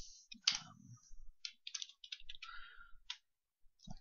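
Fast, light clicking of computer keyboard keys in short bursts with small gaps, close and quiet, with no talking.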